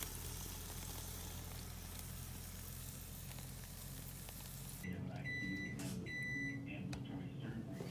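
Beyond Burger patties fry in a home kitchen pan with a dense, continuous sizzle that cuts off abruptly partway through, followed by quieter room sound and a few faint beeps.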